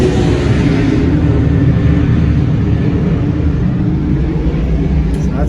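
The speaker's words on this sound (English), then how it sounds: "Sorry, I'm gonna see if we can catch this plane." Jet airplane passing over an Isla Verde beach resort in Puerto Rico, a loud, steady low roar that fills the whole stretch without break, heard from outdoors with no talking over it.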